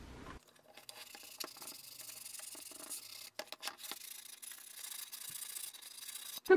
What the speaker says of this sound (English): I'm just going to sand down the edges now a little bit, make them a little bit rounder and smoother